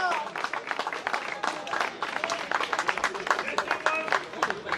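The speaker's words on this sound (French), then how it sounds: "J'aimerais un round d'applaudissements pour le team Peltrax et Erwan Kero." Applause for a cycling team at the finish of a Paris criterium race, a crowd clapping in steady scattered bursts over the whole stretch, with voices and crowd chatter mixed in underneath.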